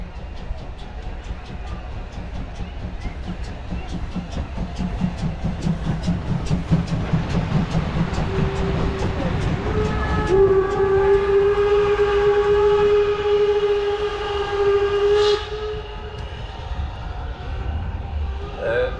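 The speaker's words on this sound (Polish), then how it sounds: "pierwszy uczestnik tegorocznej parady, czyli parowóz Energy 507 z Luksemburga" A Luxembourg steam locomotive, Energy 507, rolls past at the Wolsztyn steam locomotive parade with rhythmic chuffing and clatter, then a long, loud whistle sounds before fading off.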